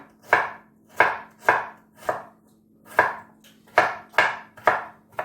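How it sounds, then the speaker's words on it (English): A knife finely chops vegetables on a cutting board, crisp close thuds in an uneven rhythm of about two per second, with no talking. "chop those very finely"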